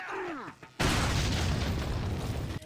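Grenade blast in Resident Evil 4: a sudden loud, broad boom that rolls on as a sustained rumbling roar for nearly two seconds, then cuts off.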